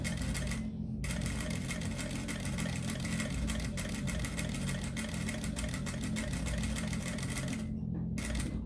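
A sewing machine stitches a zippered accordion wallet in a fast, steady rattling run, close and loud, with two brief pauses.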